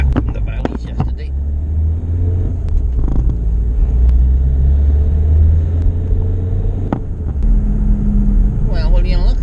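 A new van's engine rumbles low and steady as it pulls away and builds speed, heard from inside the cab with people talking over it.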